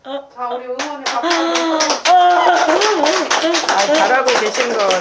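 Clapping from a small audience at a Korean talk gathering rings out beneath a prominent voice that keeps speaking or singing throughout.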